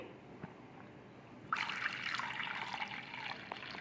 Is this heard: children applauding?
no